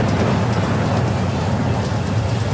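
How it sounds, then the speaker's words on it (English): Storm-force hurricane wind roars across the Florida Keys, a dense, steady broadband rush with heavy low rumble and no letup, loud and continuous throughout. "Their screams can barely be heard over the roar of the wind."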